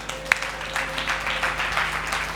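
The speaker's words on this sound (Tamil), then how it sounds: "கைத்தட்டுங்க பார்க்கலாம்" Church congregation at a Sunday service clapping together, a steady moderate patter of many hands with a faint tonal hum underneath, lasting a couple of seconds.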